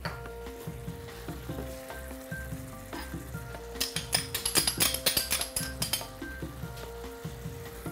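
Tomato paste goes into a sizzling pan of vegetable porridge with barley groats, producing a steady frying hiss with clinks and stirring scrapes, growing into a burst of louder crackling sizzle near the middle.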